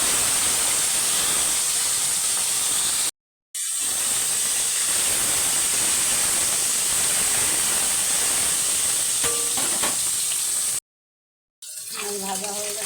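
Koi fish seasoned with salt and turmeric frying in hot oil in a wok, a loud steady hissing sizzle lasting throughout with two brief silent breaks, faint clinks near the end.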